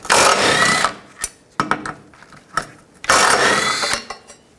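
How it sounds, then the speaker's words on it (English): A ratchet with a 12 mm socket backs out bolts on the front lower control arm of a 2004-08 Nissan Maxima. There are two loud bursts of rapid clicking, separated by a few sharp clunks and knocks. "Take these two bolts out, use a 12 millimeter socket."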